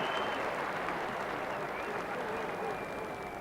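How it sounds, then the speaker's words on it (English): A cricket crowd applauds a batsman reaching fifty in a 1994 Benson & Hedges final, a sustained, even wash of clapping from a large stadium audience, heard under commentary. "The crowd are applauding the 50."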